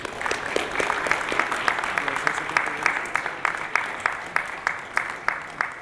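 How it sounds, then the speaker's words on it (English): An audience at a rice award ceremony applauds, a dense steady clapping with distinct individual claps standing out, sustained at even strength throughout. "let's give them a great round of applause"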